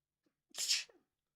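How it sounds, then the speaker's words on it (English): A single sharp sneeze, close and loud, with a short breathy intake before it and a faint exhale after. "I have to sneeze"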